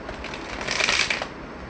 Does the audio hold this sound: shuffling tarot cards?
yes